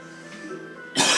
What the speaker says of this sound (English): yes, the coughing.